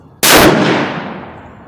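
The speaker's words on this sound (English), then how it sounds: "This is the third shot." A single loud, close rifle shot at a 100-yard outdoor range cracks sharply and then rings out in a long fading echo.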